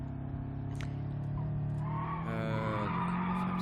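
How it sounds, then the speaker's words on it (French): A rally car drifting and skidding in BeamNG Drive, tire squeal rising over a steady engine drone throughout. "on va faire un petit drift. C'est du rallye."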